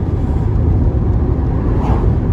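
An MG TF sports car engine drones loudly and steadily, with road rumble beneath it and no voices.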